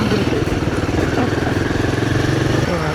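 A motorcycle being test ridden in a narrow lane gives a close, steady, rapidly pulsing engine putter that runs without a break.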